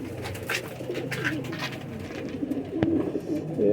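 Breeder pigeons coo in a loft in short, repeated throaty bursts close to the microphone, with faint background voices.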